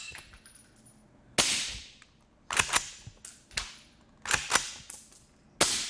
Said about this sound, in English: listen how quiet subsonic ammo becomes